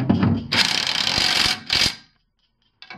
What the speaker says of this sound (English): Hand me that impact driver, the drill machine.